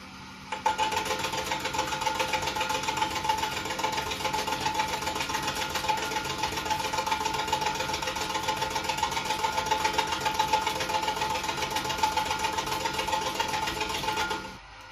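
An Emcoturn 120 CNC lathe cuts 4140 steel with a carbide insert, making a steady, loud mechanical whir and hum with a faint tonal whine that holds continuously for the whole stretch before stopping.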